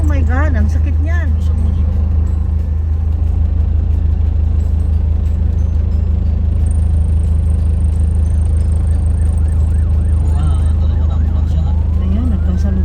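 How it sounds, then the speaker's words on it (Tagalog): Ambulance sirens passing on a road, a steady high wail running through the middle of the clip over constant loud traffic and engine rumble, with people talking throughout. "Ayan, nagkasalubong ng mga ambulansya."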